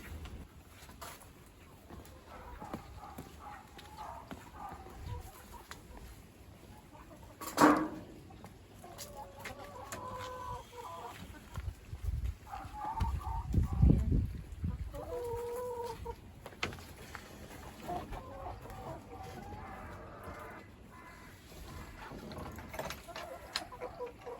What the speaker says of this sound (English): I'll take you over now and introduce you to the new hens.